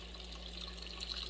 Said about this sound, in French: c'est très important pour mettre de l'eau chaude sur la viande, la sauce.